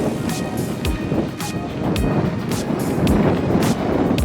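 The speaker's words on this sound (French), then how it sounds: "Il y a un peu de vent." Wind buffets a handheld microphone outdoors in Amsterdam, a loud, constant rough rumble with gusty surges and scattered crackles, no voices over it.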